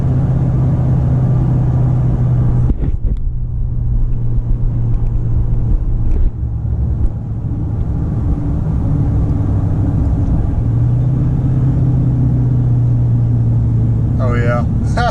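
An LS-swapped 1999 GMC Yukon rolls down a steep hill, its engine droning steadily under braking with a pitch drop as it downshifts, loud and close throughout, with a person talking over it.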